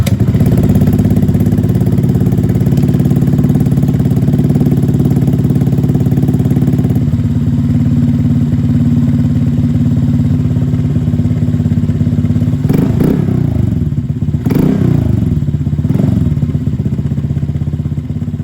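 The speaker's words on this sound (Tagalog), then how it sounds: "start natin itong motor natin at least 10 to 15 minutes" A Honda Click scooter engine idles steadily after an oil change, a loud close continuous low hum with some mechanical clatter, interrupted by a few brief throttle revs near the end.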